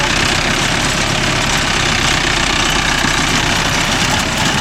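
A Mahindra Arjun Novo 605 DI tractor engine runs close by at low revs during groundnut baling, a loud, continuous diesel rumble with a steady knocking throb and no voices.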